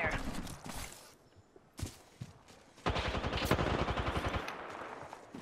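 Gunfire in the video game Apex Legends, with short early bursts followed by a long rapid automatic volley, loud and near, with voices and game audio mixed in.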